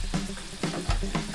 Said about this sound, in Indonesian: udah tuh goreng.